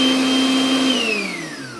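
Electric blender switched on to mix a raw salad dressing of fruit and vegetables, running on its own for a minute: a loud, close motor whine that drops in pitch as the blade load changes, no talking.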